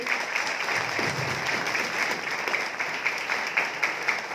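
Audience at a celebration event applauding two mentors, a sustained wash of moderately quiet, steady clapping from a crowd, with no one speaking over it.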